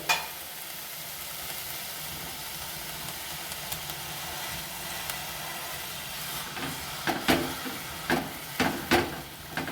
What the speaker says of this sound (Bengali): এবার চিকেনটা সিদ্ধ হওয়ার জন্যে দিচ্ছি অল্প জল।